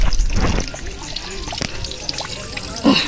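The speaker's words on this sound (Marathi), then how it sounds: "अच्छा, हे पाणी येते इथे." Water trickles and splashes nearby in uneven bursts at Kankeshwar Temple, Alibaug, with a louder splash near the end and faint background noise.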